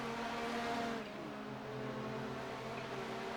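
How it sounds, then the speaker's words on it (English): Race cars in iRacing run side by side into Mulsanne corner at Le Mans, with steady droning engine tones that shift pitch as they brake, close and continuous with no talk. "side by side they go into Mulsanne corner"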